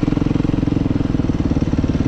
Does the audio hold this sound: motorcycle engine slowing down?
yes